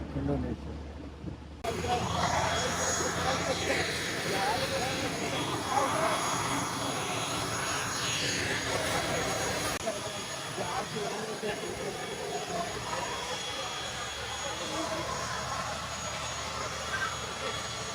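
Inside a passenger plane on a flight leaving Malaysia, the engines give a steady, broad cabin roar that fills the whole stretch, with faint voices underneath.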